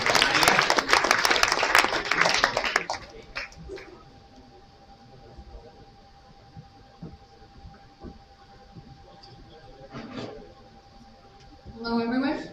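Loud applause and cheering from a live summit audience for a few seconds, then fading into a quiet room with faint murmurs and brief bursts of clapping later.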